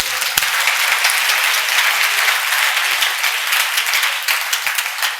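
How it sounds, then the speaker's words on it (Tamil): Audience applause at a Tamil-language speech or gathering, a dense wash of clapping with a few sharp individual claps standing out, continuing steadily and fading slightly toward the end. "கைத்தட்டு."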